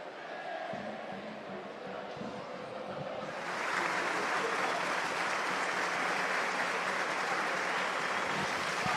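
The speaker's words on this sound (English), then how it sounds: "Gareth O'Brien getting a polite round of applause" A rugby league crowd at a Warrington versus Swinton cup match gives a polite round of applause for an injured player, the clapping swelling after a few seconds into a steady, dense wash of hands over the stadium murmur.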